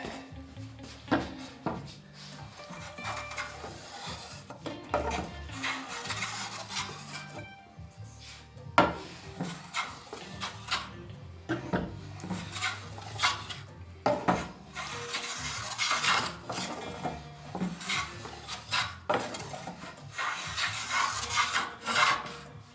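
A hand plane shaves thin ridges off a wooden Greenland paddle, giving a series of dry, rasping strokes at close range, irregular in rhythm, with short pauses between passes.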